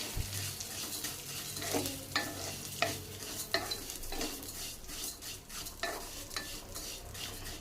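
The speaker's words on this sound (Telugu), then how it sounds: "కొంచెం లైట్ ఫ్రై చేద్దాం అంటే కలర్ చేంజ్ అయ్యేంత వరకు ఫ్రై చేద్దాం" Plain (unroasted) vermicelli lightly frying in a pan for semiya kesari, stirred with a utensil that scrapes and clinks at a steady, repeated rhythm over a soft continuous sizzle, close and fairly loud with no talking.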